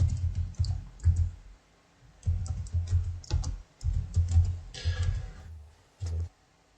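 Keys clatter on a computer keyboard in quick bursts of typing, close and crisp, separated by short pauses and a few isolated taps.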